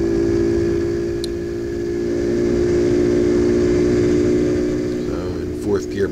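A Honda CT70 minibike fitted with an Icebear big bore kit runs at wide open throttle across a flat lake, its steady engine drone holding close and loud with a brief rise near the end, under a passing voice.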